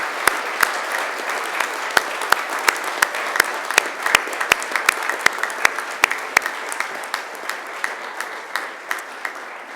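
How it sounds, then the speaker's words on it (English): Graduates at a graduation ceremony applaud their families and friends in a large space, a broad wash of clapping with sharp individual claps standing out near the microphone, holding steady for about ten seconds. "And now it's time to give them a mighty round of applause."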